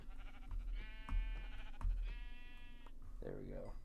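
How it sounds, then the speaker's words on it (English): Sheep bleating in the video game Minecraft, two or three clear wavering bleats in succession, close and fairly loud, with a voice talking over and between them. "There's our first sheep."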